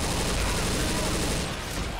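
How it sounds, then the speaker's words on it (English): Dense, continuous gunfire from shooting zombies in the video game Left 4 Dead 2, a loud barrage of overlapping shots filling the whole moment, with voices mixed in. "I wanna shoot more zombies."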